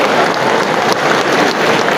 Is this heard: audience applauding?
yes